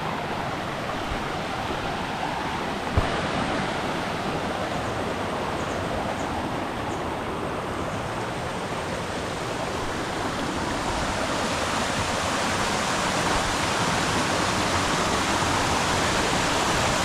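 Manneera waterfall pours in a steady, loud, close roar of rushing water that holds an even broadband wash the whole way through, with no voices over it.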